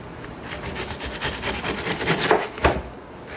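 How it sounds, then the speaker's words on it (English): A knife cuts the rind off a fresh pineapple, giving rapid rhythmic rasping scrapes close by, with a few sharper cuts toward the end and no talk. "I'm just going to go around and kind of trim off the rind by cutting inward a little bit"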